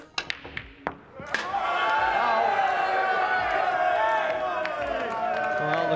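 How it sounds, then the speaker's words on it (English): Crowd at the 1996 Mosconi Cup pool match between Earl Strickland and Ronnie O'Sullivan. A few sharp claps and taps come first, then a sustained wave of loud cheering and applause, with a commentator's voice underneath. "Well, the crowd's starting to get into it again."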